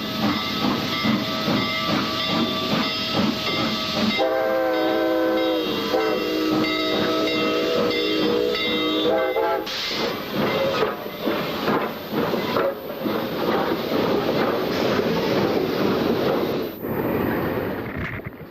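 A steam train rumbles and hisses loudly past, its whistle sounding in a long sustained blast partway through, followed by rhythmic clattering of wheels.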